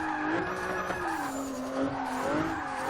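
A race car engine in a racing video game, its steady loud whine rising and dipping in pitch through a downshift, with a faint tire-skid hiss underneath and no talking.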